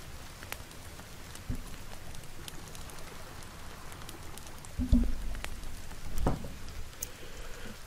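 Light rain falls in the survival game The Forest, a soft, continuous patter heard alone, broken by a couple of dull thumps.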